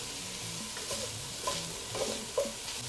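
Chopped onions and Serrano peppers sizzle steadily in a hot pot, with a few soft scraping stirs rising over the constant close frying hiss.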